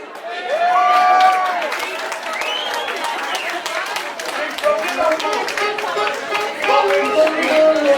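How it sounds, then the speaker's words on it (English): Lively audience clapping at a Christmas party cabaret, a crowd applauding steadily with scattered whoops and cheers mixed in, people talking over the applause throughout. "Can we have the biggest round of applause, please, for"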